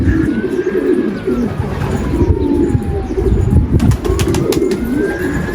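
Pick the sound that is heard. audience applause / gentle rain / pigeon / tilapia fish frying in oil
pigeon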